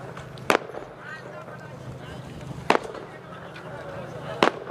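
Firecrackers burst at a Shiv Sena rally in Umarga, Dharashiv district: three sharp, loud cracks spaced about two seconds apart over a murmuring crowd background.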